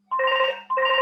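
A mobile phone rings with a bright electronic tone, two short bursts separated by a brief gap, close and clear against a quiet room.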